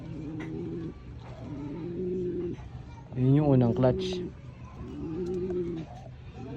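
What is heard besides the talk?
pigeons cooing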